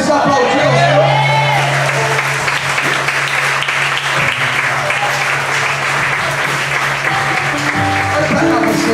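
A church congregation claps and cheers loudly and continuously, with whoops and shouts layered over dense applause while a sustained musical tone hums beneath.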